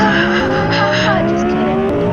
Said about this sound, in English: Well, my cars can drift.